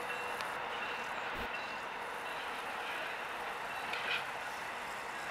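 An AEM-7 electric locomotive train on the Keystone Line rumbles steadily at moderate distance, a continuous rolling drone with a brief thump near the middle and a slight swell toward the end.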